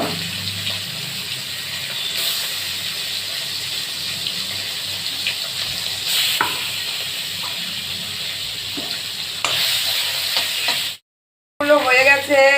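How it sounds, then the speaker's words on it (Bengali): River rai fish frying in hot oil in a home kitchen: a steady, loud crackling sizzle with occasional stirring clatter, ending in a brief silence and then a short burst of a different sound. "তো আমি এই মাছগুলো আগে প্রথম ভেজে তুলব"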